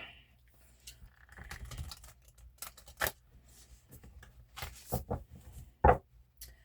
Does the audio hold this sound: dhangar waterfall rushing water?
no